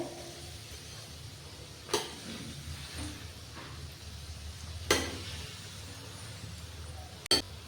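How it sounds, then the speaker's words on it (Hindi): A wheat flour snack fries in oil on a low-medium flame with a soft continuous sizzle, broken by three sharp clinks of a utensil against the pan; quiet and close. "लो टू मीडियम फ्लेम पर इसे हमें फ्राई करना है।"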